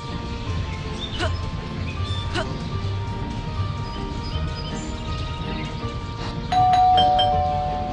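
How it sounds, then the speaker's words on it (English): Bell chimes ringing repeatedly in the video game Scary Teacher 3D, a few bright struck tones over a busy game soundscape, ending in a louder sustained ring. "There goes that stupid bell again."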